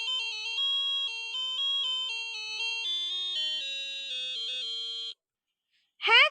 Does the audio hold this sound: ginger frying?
no